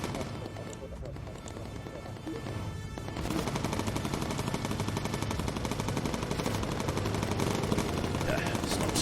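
A Stuka strafing in the WWII bomber game Bomber Crew, with rapid machine-gun bursts that grow louder and denser after the first few seconds and rattle on continuously under a droning aircraft background.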